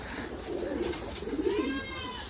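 At a pigeon farm with birds kept in a country setting, pigeons coo in soft, low, rolling bursts, several calls overlapping at close range with light background chatter of other birds.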